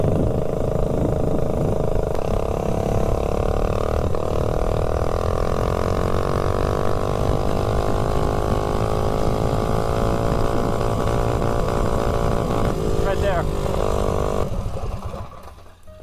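Mini bike engine revving hard at high rpm, a loud, buzzy whine that climbs and holds for a long stretch before cutting off near the end.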